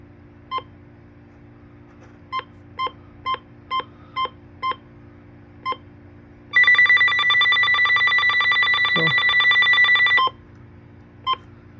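A First Alert weather alert radio gives a string of short, evenly spaced beeps, then a loud continuous alarm tone for about four seconds, followed by one last beep, close and without speech.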